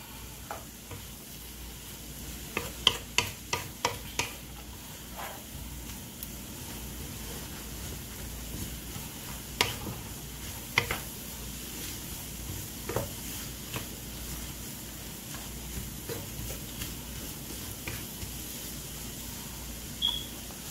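Cabbage sautéing in a little oil, a quiet steady sizzle with scattered utensil taps and scrapes, fairly faint and close, no talk.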